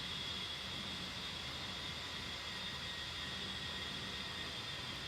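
A fighter jet engine in the DCS flight simulator game gives off a steady, unbroken roar and hiss with a thin high whine on top. It holds at a constant level with no talking over it.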